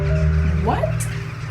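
Crows cawing in a Danish forest, a single harsh caw rising over steady low voices and background hum, heard mid-distance with people talking throughout.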